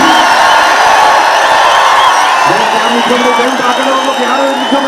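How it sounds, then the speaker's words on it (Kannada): A large, dense crowd roars and cheers at the RCB victory parade outside Vidhana Soudha, a continuous loud wash of voices with scattered whoops and shouts. A lone nearer voice rises briefly over the din in the second half. "ಹೌದು ಅನ್ನೋದಾದ್ರೆ ಒಂದ್ಸಲ ಜೋರಾದ ಚಪ್ಪಾಳೆ"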